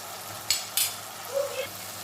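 Boiled potatoes stirred into a sizzling spice masala in a pan, a faint steady fry with a few sharp scraping clacks of a spoon and a brief soft stir near the end.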